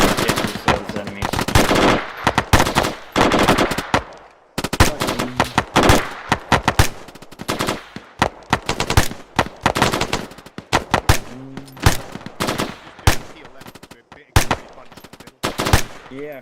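Rapid automatic gunfire and single shots crackle loudly and near in Arma 3 during a platoon ambush, bursts repeating through the whole stretch with short gaps and brief voice chatter under the shooting.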